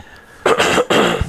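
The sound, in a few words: people coughing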